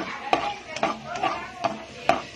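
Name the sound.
stirring onions in cooking oil in a pan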